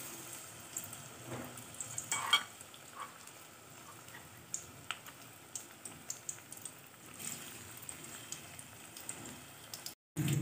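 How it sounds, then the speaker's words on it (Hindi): Cauliflower manchurian pieces frying in hot oil give a steady soft crackle and sizzle with scattered sharper pops, moderately quiet and close, with no talking. "अब हम इसको ऑयल में फ्राई कर रहे हैं।"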